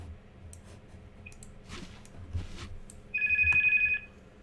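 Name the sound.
telephone ringing in video game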